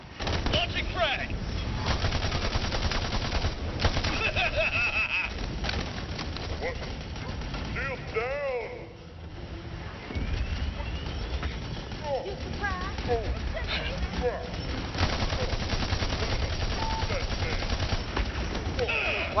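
Gunfire crackles almost continuously in a video game, with dense automatic bursts and explosions layered together, and voices calling out over the noise.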